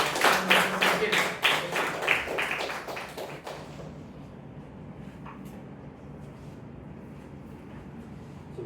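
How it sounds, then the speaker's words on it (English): An audience at a Toastmasters club meeting claps together to welcome the meeting's timer. Dense applause fills the first three seconds, then thins out to a few scattered claps and fades into quiet room noise. "please give a round of applause to welcome our timer, Sanket"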